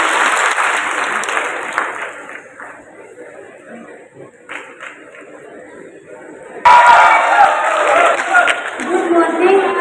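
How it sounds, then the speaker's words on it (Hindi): Audience applause fills a municipal auditorium in Udaipur during a millet awareness program. It fades beneath murmuring chatter, then bursts back loud and close midway through. "तालियां हो"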